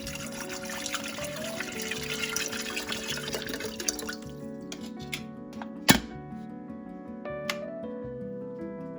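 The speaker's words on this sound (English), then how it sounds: "fill the kettle with water," An electric kettle holding water with a spoonful of baking soda starts to heat, giving a bubbling, trickling wash that thins into scattered drips, ticks and a sharp click, close and fairly quiet.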